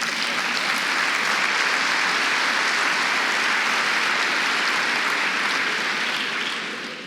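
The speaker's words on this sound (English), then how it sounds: "You can applaud." Steady, dense applause fills a keynote hall at SAP Sapphire Madrid 2026, a broad wash of many hands clapping at even loudness for about seven seconds before easing off slightly at the end.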